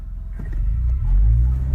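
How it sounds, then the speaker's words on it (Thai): Honda car fitted with a Hondata ECU tune and an AZC exhaust pulls away from a standstill, a steady low engine rumble that swells and thickens as it accelerates, close and continuous with no talk. "ลองดูการออกตัวจากจุดหยุดนิ่งกันบ้างว่าอัตราเร่งเป็นยังไงนะฮะ"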